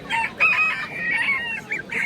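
A rooster at a busy poultry market lets out loud, close cackling calls in short bursts, with other fowl clucking around it.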